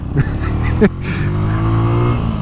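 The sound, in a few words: Harley-Davidson motorcycle engine passing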